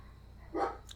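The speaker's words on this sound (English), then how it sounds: "Sorry guys, the dog outside's barking." A dog barks once outdoors at a distance, a short faint woof with a small yip trailing after it, over a low steady background hum.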